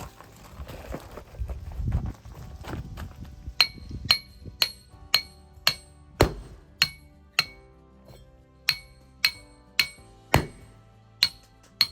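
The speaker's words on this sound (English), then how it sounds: "So we'll go maybe over here a little bit and drill again." A hand-held drill bores into rock at a cabin site, producing a series of sharp, evenly spaced metallic strikes that ring out loud and close after some rougher knocking at the start.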